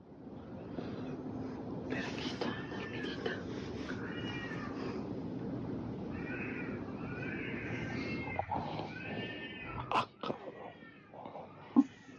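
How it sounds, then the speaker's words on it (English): Recorded cat meowing and caterwauling in repeated plaintive cries, played back through speakers, with a low steady background hum throughout and a few sharper noises near the end. "Sorry, this sounds like a cat."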